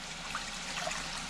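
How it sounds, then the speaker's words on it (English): A small splash of apple cider vinegar trickles into a cooking pan, a soft, even liquid hiss that lasts the whole moment without any talking. "I'm gonna pour just a little bit in here."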